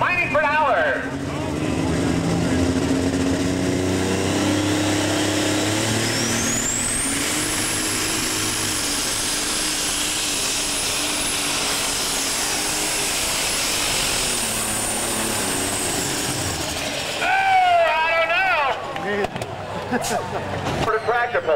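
Super stock pulling tractors roar loudly at an NTPA tractor pull in Saline, Michigan, a sustained heavy engine drone with a long rising high whine that holds steady before cutting off, followed by a brief burst of revving.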